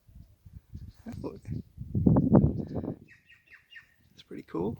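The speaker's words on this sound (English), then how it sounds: "There's a little bird trying to beat him up." A small bird calls while chasing a bird of prey over a freshly mowed yard, giving a few quick, high chirps. Close, clear talk dominates and largely covers the calls.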